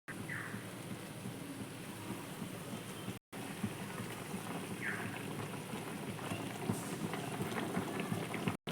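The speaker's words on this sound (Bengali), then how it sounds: "ঝোলটা ফোটা শুরু করেছে।" Fish curry gravy for a Bengali rui posto dish boils in a pan, giving a steady close bubbling and sizzling hiss that continues throughout with no speech.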